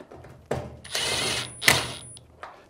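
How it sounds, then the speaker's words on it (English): A screw being driven back into a Samsung washer cabinet with a power tool during clutch assembly repair, heard as two short buzzing bursts of the driver with brief gaps and a small clatter at the end, close by. "And we'll reinstall one of the screws"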